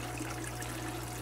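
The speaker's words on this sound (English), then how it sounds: "The pump that pumps the water up to the top so it can waterfall back down" A pump lifts water to the top of an aquarium waterfall tank so it can spill back down, making a steady, close trickling and splashing wash over a low constant hum.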